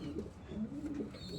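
Soft, repeated cooing from a large young pigeon or dove chick, close and fairly quiet with low murmuring notes throughout and no talk.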